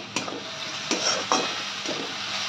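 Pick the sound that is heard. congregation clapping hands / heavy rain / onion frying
onion frying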